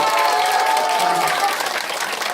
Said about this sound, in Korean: 우리 꾸러기 단장님에게 박수 한번 주세요